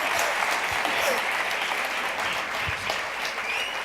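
Audience applause for a speaker at a software testing talk: dense, steady clapping from a crowd, fairly close and sustained throughout with no voices over it.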